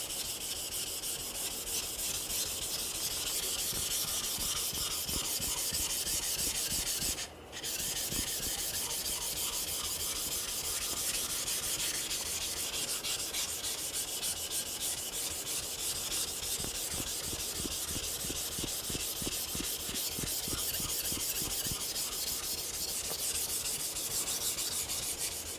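A blade is sharpened on a King 800 Deluxe whetstone: steady, rhythmic scraping strokes of steel on a wet abrasive stone, close and continuous apart from one brief pause.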